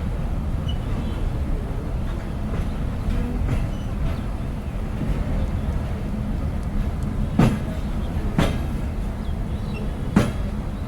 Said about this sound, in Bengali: সকাল দশটা তেরো মিনিটে আমাদের ট্রেন প্রবেশ করলো চাঁপাইনবাবগঞ্জ রেলওয়ে স্টেশনে